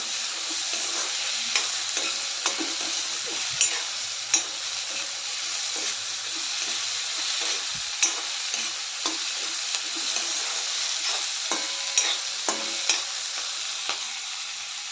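Finely chopped snake gourd sautéed with onion in a pan, a continuous close sizzle punctuated by regular spatula taps and scrapes throughout.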